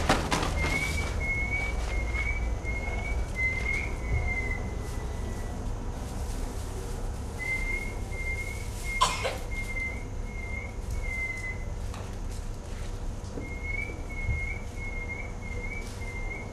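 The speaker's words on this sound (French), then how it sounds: "Tu entends le rossignol?" Clear, repeated whistled nightingale phrases at about 2.5 kHz, sung in three separate bursts over a steady low background hum, with one sharp click in the middle.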